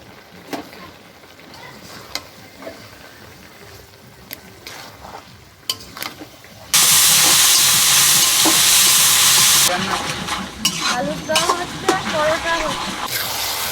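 Goat fat frying with spices in a pan and being stirred, a steady loud sizzle that swells in the middle of the clip, with scraping stirs and intermittent clicks before and after.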